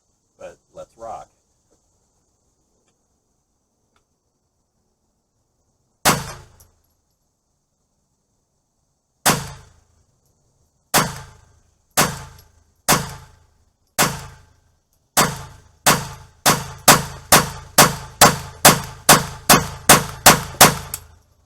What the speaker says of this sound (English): we're going to fire off some rounds downrange, about 50 yards